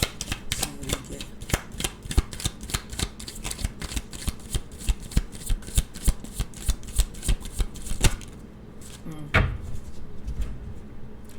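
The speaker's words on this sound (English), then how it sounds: "let me go ahead and pull these cards here" Playing cards being shuffled in quick riffling bursts, close and crisp, running steadily for about eight seconds before a brief pause and a final soft shuffle; a voice murmurs faintly in places.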